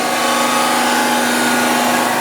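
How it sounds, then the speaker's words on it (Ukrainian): A Dremel rotary tool grinds down a bent metal sanding table, a steady, loud, continuous high whine with a constant pitched hum and no pauses. "Дрем."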